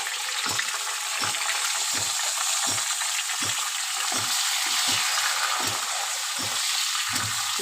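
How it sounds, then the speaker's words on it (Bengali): Shrimp with tomato, chili and garlic sizzling in hot oil, a loud steady hiss broken by regular scraping strokes of a spatula stirring the pan. "ভালো করে ভাজা ভাজা করে নেব"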